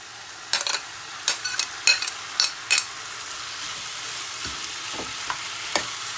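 Chopped onions and peppers sizzling in a hot pan, a steady frying hiss broken by a series of sharp scraping clicks from stirring, close and alone without voices.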